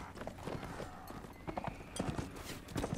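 A horse gallops in the Mount & Blade video game, its quick rhythmic hoofbeats pounding steadily at moderate volume with no speech over them.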